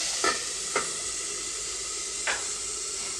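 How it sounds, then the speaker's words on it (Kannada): Vegetables fry in oil in a steady close hiss of sizzling while a spoon scrapes the pan three times in short strokes. "ಒಂದು ಐದು ನಿಮಿಷ ಇದನ್ನು ಎಣ್ಣೆಯಲ್ಲಿ ಫ್ರೈ ಮಾಡ್ಕೊಳ್ತೀನಿ"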